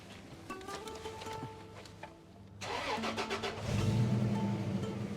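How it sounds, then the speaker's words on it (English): A 1986 Toyota Land Cruiser with a replaced engine cranks briefly, then catches and fires up, settling into a steady, rising idle close by with no talking. "Let's start the car up for the viewers."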